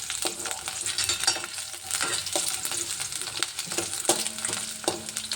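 Potatoes frying in a hot pan as they are stirred, a steady crackling sizzle with repeated scraping strokes of the spoon against the pan at close range, no talking.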